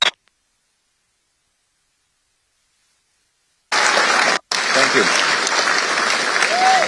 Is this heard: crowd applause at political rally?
yes